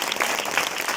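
Audience clapping at a youth day motivational gathering, a brief, dense burst of many hands applauding at moderate volume.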